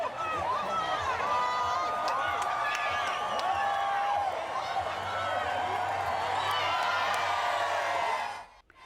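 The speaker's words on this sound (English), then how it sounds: "you just heard it, hundreds of people cheering on the hundreds of people walking and running the streets of Northwest DC" Hundreds of people cheer along a street in Northwest DC during an annual Pride high heel race, with whoops, scattered clapping and steady crowd noise throughout, and voices calling out above the din before it fades at the end.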